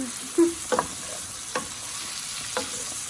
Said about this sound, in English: I did add some white wine to the skillet.